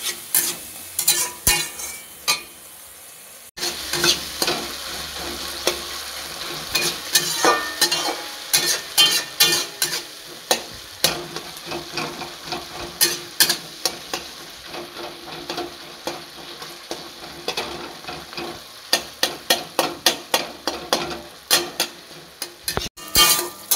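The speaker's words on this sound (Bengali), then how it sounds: "একটু জল দিলাম, মশলা কষাতে একটুখানি জল লাগবে, দিলাম।" Spices sizzle and are stirred in a pan with a little water, alongside tomato, for a vegetarian pumpkin curry; steady frying hiss with repeated scraping clinks of a spoon against the pan, close and fairly loud throughout.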